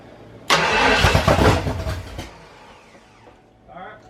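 A Ford 351 Windsor V8 cranks loudly for nearly two seconds with a rapid, uneven churning roar, then stops. A voice is heard faintly near the end.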